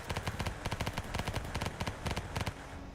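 Rapid bursts of automatic gunfire from Ancient Warfare 3's battle over an airfield on Crete, loud and close, repeating in fast rhythmic volleys with a British tank nearby, continuous for about two and a half seconds before stopping.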